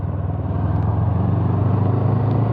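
A Honda CBF 500 motorcycle engine hums steadily and close while riding through gentle curves, a continuous even drone with no voices.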